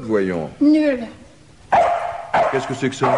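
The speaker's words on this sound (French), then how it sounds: "C'est un chien." Dog barks and whimpering yips from a lost dog come in short bursts, close and loud, alternating with someone speaking French between them.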